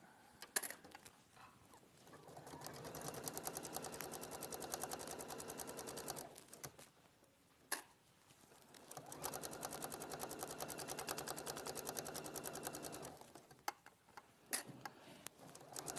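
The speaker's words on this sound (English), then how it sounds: "OK, so we'll sew this at 1 centimetre." A sewing machine stitching lining fabric with a straight stitch plate runs in two long, fast, even bursts of rapid ticking, separated by a short pause and a sharp click, with faint handling noises between.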